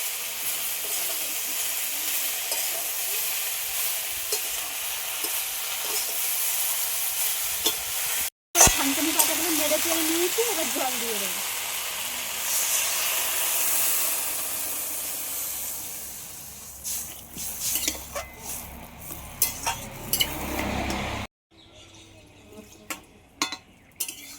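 A pan of Bengali fish curry with singi and magur fish and thankuni leaves sizzles hard and steadily, then water is poured in for a sudden spitting hiss, with some stirring scrapes as the frying carries on.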